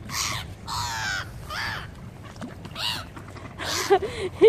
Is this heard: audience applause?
no